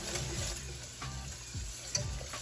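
A spoon stirs a pot of cooking grits, soft scraping and thick bubbling strokes repeating at an unhurried pace, fairly quiet and close, with no talking.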